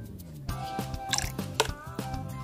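Liquid plant fertilizer is poured into a container of water, giving close dripping and splashing with soft squishy liquid sounds in a steady stream.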